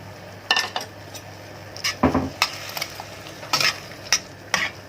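Frozen tomatoes are added to a pot of green beans being cooked, giving a string of sharp clinks and scrapes from utensils on the pot over a soft background sizzle, with no talking.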